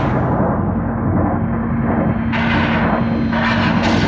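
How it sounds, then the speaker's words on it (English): Expecto Patronum spell effect built from household objects: a dense, steady rumbling wash with a sustained hum underneath and brighter hissing swells layered in partway through, loud throughout. "how to make the Expecto Patronum sound using household objects"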